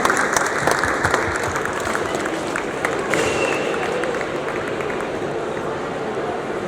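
An audience claps steadily at a film pre-release event, a dense, even patter of many hands filling the room from start to finish at moderate loudness.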